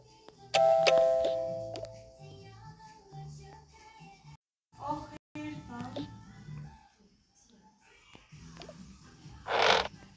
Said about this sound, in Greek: Ποιος θα πατήσει το κουδούνι?